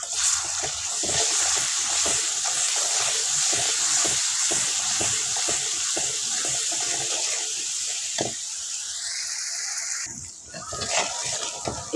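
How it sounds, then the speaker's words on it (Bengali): Turmeric, chili powder and salt fry in oil for a Bengali rui fish curry, giving a steady broad hiss with scattered light ticks and scraping clatter, fairly close, a brief hiss change near the end. "হলুদ গুঁড়ো দিয়ে দেব, লঙ্কার গুঁড়ো, লবণ। ভালোভাবে একটু ভেজে নিব তেলের সঙ্গে।"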